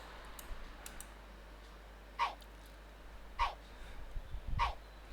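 Three short, clipped dog barks from the Sprunki video game sound at even intervals, quiet and dry against a low background hum.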